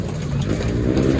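Young racing pigeons coo softly in a loft at sunset, a low steady murmur that runs without a break under a faint hum of distant traffic.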